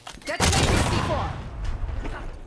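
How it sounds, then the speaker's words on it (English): A C4 charge detonates in a first-person shooter game: a sharp, loud blast that rolls into a long rumbling roar and slowly fades, with faint game sounds trailing behind. "Detonating C4."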